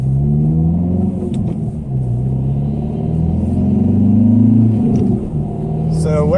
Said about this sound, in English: So what I'm doing now is taking a ride, making sure that my wheels are good